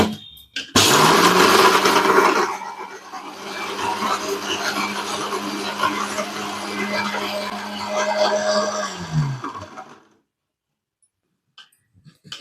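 A mixer grinder whirs loudly as it grinds peeled ginger and salt for chutney, a steady motor drone with a harsh burst at the start that runs for about nine seconds before cutting off into silence.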